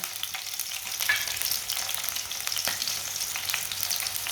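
Finely chopped onion frying until lightly browned gives a steady, moderate sizzle close up, with occasional soft stirring scrapes and no voices.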